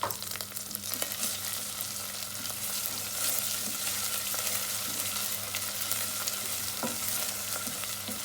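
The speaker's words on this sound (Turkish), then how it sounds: "Hafif nane de ısınsın yağda 1-2 saniye." Mint heats in oil with homemade tomato paste, giving a continuous soft, close sizzle with occasional faint stirring scrapes and no voices.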